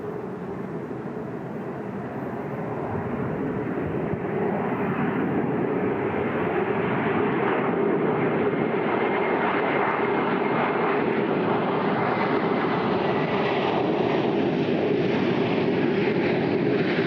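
Large jet aircraft at an air show, a loud continuous engine roar that builds slightly in the first seconds and then holds steady as a broad, rushing drone.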